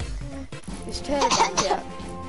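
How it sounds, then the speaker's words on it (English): A loud, close cough with some throat-clearing breaks out in a home setting, a short burst of harsh bursts lasting about a second, with other voices and murmurs around it. "Nice loud cough"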